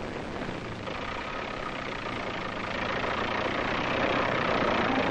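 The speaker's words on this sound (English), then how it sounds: "the tractor would pull itself over its own treads and out of the hole it had dug for itself" A tracked tractor's engine labours steadily as the machine drags itself out of a dug-in hole, a dense, continuous rumbling roar that swells slightly louder toward the end.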